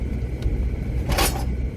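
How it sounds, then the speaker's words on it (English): Old kitchen furniture shifting in a heavily loaded car, a brief clatter and rattle over the low rumble of the moving vehicle, one faint knock followed by a louder burst. "That noise you hear is some old kitchen furniture that we're getting rid of."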